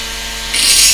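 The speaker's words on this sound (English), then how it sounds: "I'm using a slightly larger drill in the Dremel." A small high-pitched Dremel rotary tool whines into a drill bit during a valve radio repair, its pitch rising and grinding louder partway through a brief moment.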